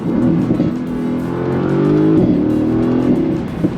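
A 2018 Mercedes-AMG GT with a V8 under hard driving drones loudly up close, its engine pitch rising and falling, with sharp crackling exhaust pops breaking through the roar.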